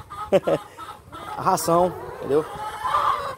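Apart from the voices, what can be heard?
laying hens clucking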